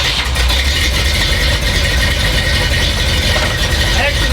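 The 400 V8 engine of a Ford Bronco, a 1979 truck built from mismatched parts, runs steadily and loud at close range at a Bronco celebration gathering. It is a continuous rumble with crowd noise mixed in.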